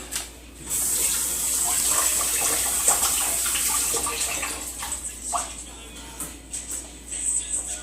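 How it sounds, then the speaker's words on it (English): Tap water runs steadily over lettuce in a kitchen sink while greens are rinsed for a vegan green drink. The close, continuous splashing gush holds for most of the clip, then breaks up into uneven spatters near the end. "Let me rinse my lettuce off."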